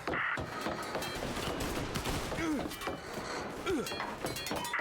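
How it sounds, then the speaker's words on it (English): Rapid gunfire crackles through a dense, noisy scene in the Mafia Definitive Edition video game, with sharp shot bursts over a continuous rumbling background and no clear distinct explosion. "Gunfire and an explosion reported at the Corleone Hotel."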